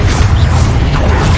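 A Confringo blasting spell in the Hogwarts Legacy video game sounds as a short, loud, crashing whoosh of magical impact, dense and brief.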